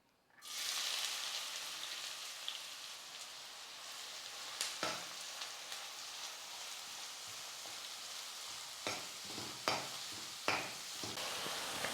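Steady, close sizzling of onions frying in hot oil, a continuous crackle with a few louder stirring scrapes and pops.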